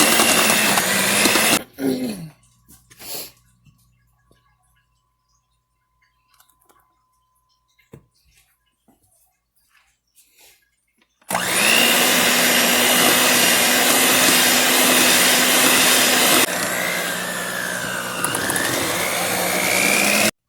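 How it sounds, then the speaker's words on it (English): Electric mixer working flour into a stiff dough for whoopie pies, loud steady motor whir in two stretches, a short burst early then a long continuous run straining slightly, with near-silence between. "Okay, that took some doing with that mixer."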